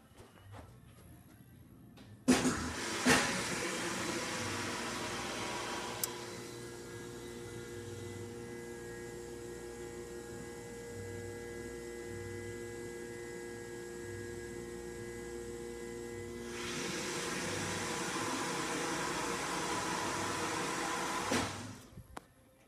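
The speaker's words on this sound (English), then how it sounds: "we'll hear the machine room." Otis in-ground hydraulic elevator machine room in a hotel: a door thumps, then a steady pump motor hum with tonal whine runs, dropping to a quieter drone midway before surging louder again and cutting off near the end.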